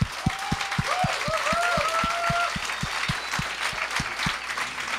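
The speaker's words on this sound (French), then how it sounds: "mesdames et messieurs, une bonne main d'applaudissements" A podcast studio audience applauds its two guests with steady, rhythmic clapping, loud and close, while cheering voices rise briefly over the beat.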